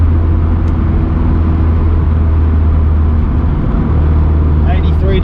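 A turbocharged Honda Civic EK running on E85 drones steadily from the cabin with a constant low engine hum, and faint chirps appear near the end.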